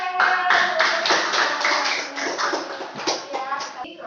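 A classroom of students claps together in quick, rhythmic bursts during an Indonesian language lesson, the sharp hand strikes fairly close and steady across the clip with voices mixed in.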